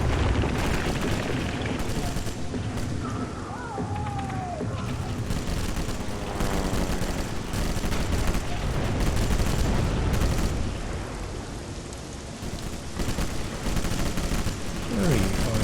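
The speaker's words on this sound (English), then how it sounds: "There's somebody else firing." Sniper Elite combat gunfire crackles and booms in dense, overlapping volleys, loud and continuous with distant and near shots mixed, and someone speaks briefly over it.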